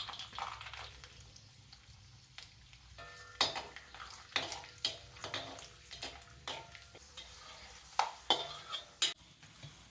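Garlic, cumin and peanuts fry in hot tempering oil with urad dal and turmeric for a brinjal fry, under a soft steady sizzle broken by repeated sharp clinks and scrapes of a spoon stirring against the pan.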